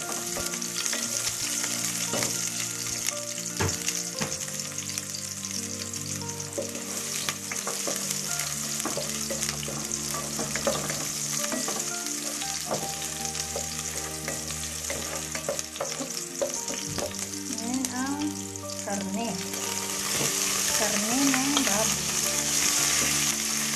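Onion sizzles and crackles in a hot pan while being sautéed for ginulay na mais. The frying hiss is loud and continuous, with occasional stirring scrapes, over soft background music.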